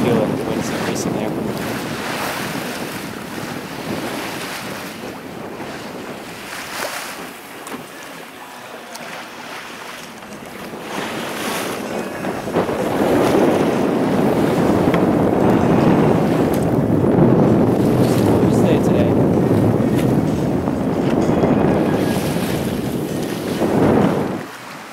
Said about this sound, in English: you can see, feel it, the wind's increasing there.